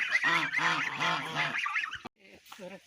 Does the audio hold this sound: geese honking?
yes